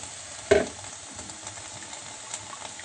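A pot of tomato paste with water being stirred, one sharp clank of the spoon against the pot followed by a quiet, steady hiss.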